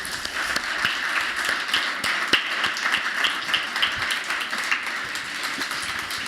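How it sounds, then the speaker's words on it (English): An audience at an affordable housing event gives a round of applause, a dense, steady patter of many hands clapping at moderate loudness, with sharper individual claps popping out, then gradually thinning toward the end. "Let's give them one round of applause."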